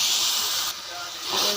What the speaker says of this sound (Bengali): এখন পানি দিয়ে দিব একটু।